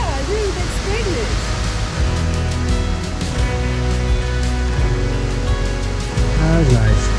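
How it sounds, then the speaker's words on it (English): Upper Cypress Falls in Vancouver, Canada: a big waterfall gives a steady, dense roar of falling water that runs the whole time beneath close conversation. "That's a nice looking waterfall right there."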